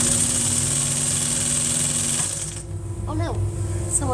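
A sewing machine stitches chair upholstery with a steady mechanical hum for about two and a half seconds, then stops, leaving quieter room sounds with a few faint squeaks.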